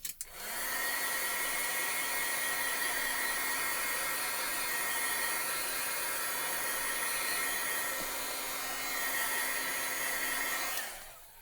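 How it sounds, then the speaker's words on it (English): A crafting heat tool blows hot air to heat set a stamped background. Its loud, steady whooshing drone runs unbroken for about ten seconds, then cuts off at the end. "I'm going to heat set that real quick."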